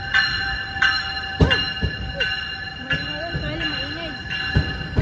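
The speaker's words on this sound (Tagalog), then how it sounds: "The train is here." A train rolls past a platform with a steady rumble and sustained high metallic ringing tones, punctuated by repeated clanks and knocks; voices and a child's sounds are heard nearby over the noise.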